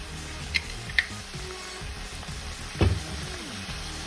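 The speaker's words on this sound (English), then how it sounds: "I'm browning the meat." Meat browning in a hot pan for a Philly sandwich, a steady close sizzle with a few sharp stirring knocks and scrapes against the pan.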